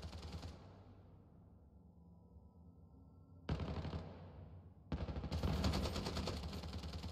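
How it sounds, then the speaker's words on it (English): Bursts of automatic gunfire and scattered shots in a shooter game featuring an AKS-74N, some distant and some closer and louder, with rapid rattling volleys in the final seconds. "Yeah, the gunshots in the middle."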